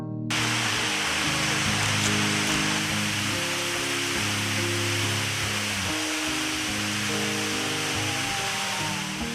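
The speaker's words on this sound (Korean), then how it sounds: "수옥폭포는 약 20m의 높이로 인공적으로 자른 듯한 절벽이 사실은 자연적으로 만들어진 폭포예요" Suyeok Falls, a waterfall about 20 m high in Goesan, Korea, roars with a steady, dense rush of falling water, constant and loud throughout with no pauses.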